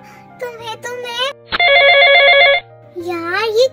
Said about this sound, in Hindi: ये क्यों कॉल कर रहे हैं?